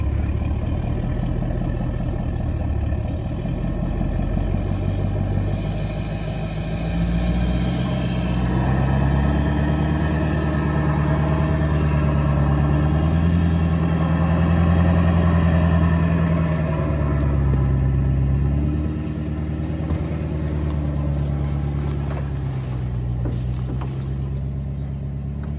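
A vehicle engine hums steadily while easing forward and hauling a trailer, a continuous mid-pitched drone that gently rises and falls in load with no talk.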